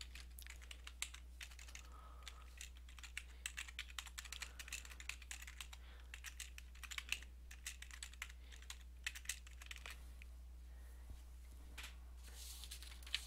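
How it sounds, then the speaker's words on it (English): Steady typing on a computer keyboard, quiet key clicks in an irregular stream of short bursts and pauses under a low constant hum, with no one speaking. "I'm actually going to type Quest Specialty Travel"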